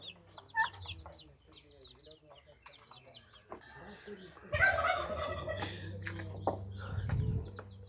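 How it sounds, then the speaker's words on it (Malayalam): Turkey chicks and chickens call on a small Kerala poultry farm: scattered peeps and clucks at first, then a busier, louder chorus of overlapping gobbles and cackles through the second half. "ആ കാണുന്ന എല്ലാം ടർക്കിയുടെ കുഞ്ഞുങ്ങളാണ്"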